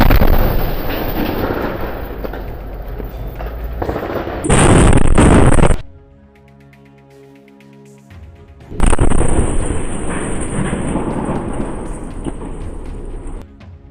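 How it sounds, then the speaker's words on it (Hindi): A booby trap explodes against an IDF tank in a combat zone: loud, roaring blast noise gives way to a short, quiet stretch with a faint droning tone, then heavy rumbling blast noise returns. "इसके बाद आईडीएफ के रास्ते में लगे एक बूबी ट्रैप को भी उड़ा दिया जाता है, जिसकी चपेट में आईडीएफ का एक टैंक आ जाता है"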